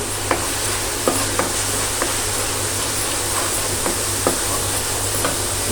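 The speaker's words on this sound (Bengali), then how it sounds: "মশলাটাকে কষিয়ে নেই।" Spices stir-fried in a pan for a vegetable curry, a continuous bright sizzle with a hiss beneath and light utensil taps recurring every second or so, close and without voices.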